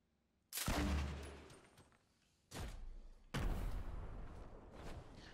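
Gunfire from the Fortnite video game on a Ninja Turtles themed map, heard as three loud bursts of rapid shots with gaps between them and no talking.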